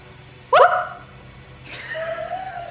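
A voice imitates a dog, giving one sharp, loud bark followed by a fainter, drawn-out whining call, close to the microphone in a quiet room.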